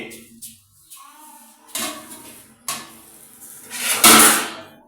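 Metal cooking pots, including a milk-boiling pan, clank and scrape as they are handled, producing several sharp close knocks spaced irregularly, the loudest near the end.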